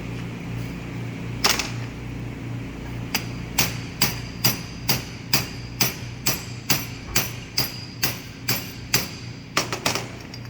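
Hammer striking a tapered pipe to drive it onto a shaft bearing's inner race, a long series of evenly spaced sharp metallic blows, loud and close, with a quick flurry of hits at the end.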